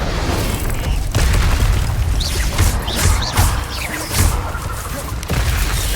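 A fire spell cast in Hogwarts Legacy, heard as a steady roaring, crackling whoosh of flame with deep rumbling booms that swell and break throughout amid busy game combat noise.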